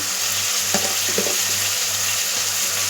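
Onions and tomato sautéing in a pan, a steady close sizzle with a few brief stirring scrapes and no talking.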